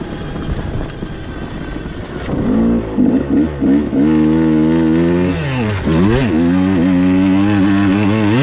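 A motorcycle engine with a Keihin 36mm carburetor revs hard and climbs in pitch, loud and close, with bursts of throttle and strained acceleration, no voices.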